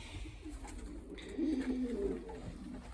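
A French-breed pigeon sits in a loft among racing pigeons, giving a soft, low cooing phrase midway through, close and clear over a steady background hum.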